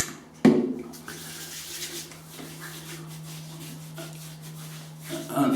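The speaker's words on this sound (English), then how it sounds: "rub that into my beard" Beard oil rubbed into a beard by hand, a soft, steady close-up friction rustle lasting several seconds after a sharp initial tap, with a low hum underneath.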